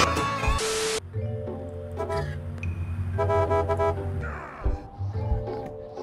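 Car horn honking in a video game: a loud, sharp electronic toot right at the start, then a few more brief honks and engine-like tones over continuous game sound effects and music, close and prominent.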